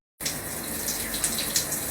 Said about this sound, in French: La douche elle passe trop bien.